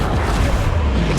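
A Confringo blasting spell explodes in Hogwarts Legacy on Xbox One, a dense, roaring burst with a deep low boom that stays loud and sustained for just over a second, with no voices.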